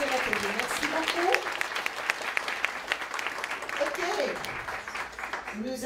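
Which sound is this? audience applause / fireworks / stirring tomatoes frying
audience applause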